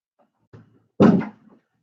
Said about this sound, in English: going to close this door